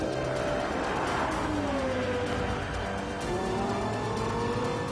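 A Lexus LFA sports car is driven hard around a race track, its engine loud and sustained with rising and falling pitch sweeps, while faint tire squeal threads through the steady roar.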